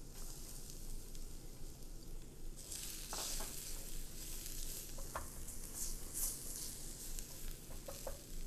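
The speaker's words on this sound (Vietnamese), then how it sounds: "và quý vị bỏ cho tỏi băm vào đây trước" Minced garlic sizzles in annatto oil in a pan, a steady close crackling hiss with brighter spitting bursts and occasional clicks as it is stirred, with no talk over it.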